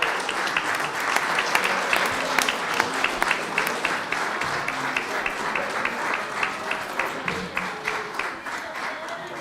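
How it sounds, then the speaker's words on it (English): An audience at a school board meeting applauds after a performance, sustained dense clapping from a room full of people that holds steady and tapers slightly toward the end. "Let's give them one more round of applause as they leave."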